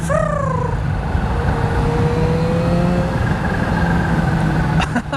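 A supercharged Kawasaki Z H2 motorcycle with an Akrapovic exhaust runs close by, its engine droning steadily with a thin rising whistle over the top, loud throughout with a brief clatter near the end.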